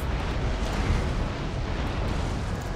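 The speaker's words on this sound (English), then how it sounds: "just fire round shot into the side of Varna" Warship cannons fire round shot in the naval battle game Empire Total War, merging into a dense, continuous rumbling barrage of booms that holds steady at high volume throughout.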